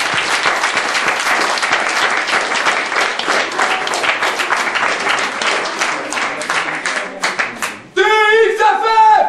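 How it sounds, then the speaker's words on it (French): Loud, dense applause from an audience at a wrestling show in Escaudain, honoring the announcer, runs for about eight seconds, then gives way to cheering and whistles near the end. "Donc je vous demande un tonnerre d'applaudissements pour notre speaker, Jean-François."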